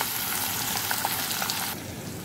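Four small chopped onions sizzle steadily in hot oil for keema with peas and potatoes, a loud continuous frying hiss with a few soft pops, easing slightly near the end.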